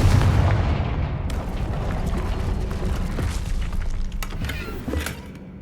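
A Confringo fire spell in Hogwarts Legacy bursts amid troll-wrecked debris, a loud rumbling blast that opens the clip and rolls on with crackling, tumbling impacts and sharp pops as it slowly fades.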